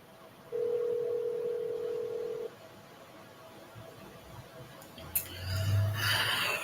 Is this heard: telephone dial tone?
yes